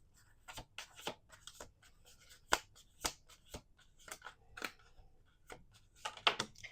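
Playing cards being shuffled at a table during a tarot-style reading, a run of quiet, close riffles and soft snaps scattered across the clip with no talking.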